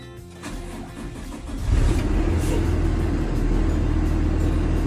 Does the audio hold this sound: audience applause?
no